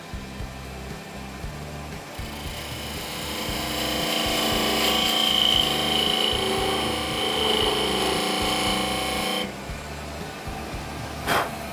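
A wood lathe turns a small tenon on a rotten, spalted epoxy resin shaving brush handle, a steady low motor hum under scraping and rasping of the cutting tool that swells through the middle, then drops off near the end.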